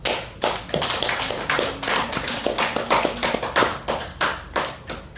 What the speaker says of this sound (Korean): 장학금 받은 우리 학우들 위해서 한번 박수합시다.